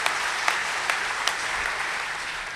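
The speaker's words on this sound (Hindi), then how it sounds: "एक बार जोरदार तालियां बजा करके मुझे आज्ञा दें" An audience at a Hindi comic poetry recital breaks into loud, sustained applause, a thick, even wash of clapping with a few sharper claps standing out, and no talking over it.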